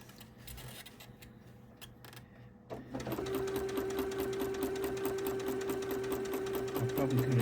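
A sewing machine stitches through a bulky candlewick quilt, its rapid, steady needle chatter starting partway in and running loud and even to the end after a quieter stretch.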